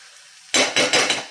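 Byadgi red chilli powder stirred into a hot spinach dal tadka: after a quiet start, a sudden loud sizzling hiss swells in three quick surges as the spoon works through the pan, close and alone.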